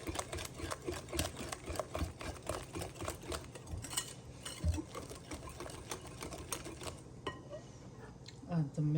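Banana bread batter with vanilla extract being mixed in a bowl, a steady run of quick rhythmic clicking and scraping taps close by, with a few clinks of the utensil against the bowl and no talk.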